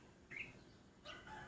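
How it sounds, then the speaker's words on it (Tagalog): Morning birds in a leafy chico tree give two short bursts of high chirping, faint and somewhat distant, over a low, quiet outdoor background. "Mga nagkakantahan, mga ibon tirit, tuwang-tuwa sa puno ng chiko."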